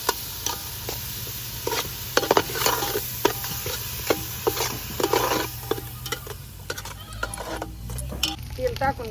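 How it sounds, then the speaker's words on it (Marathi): Coconut and ground onion masala paste frying in oil, a steady sizzle broken by repeated scraping and stirring strokes of a spoon in the pan. "खोबरा आणि वाटलेला कांदा तळून घेते आणि तेलात मिक्स"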